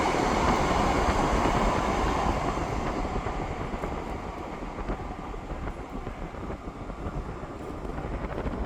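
A REM light rail test train crosses the new Mille Iles River Bridge between Laval and Montreal's North Shore. It makes a continuous rolling rumble with faint wheel clatter, loudest at first and then easing slightly as it carries on.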